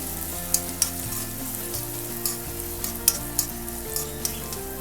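Ginger, garlic, shallots and small coconut pieces sizzle steadily in hot oil, a loud continuous crackle with occasional stirring clicks and no voices.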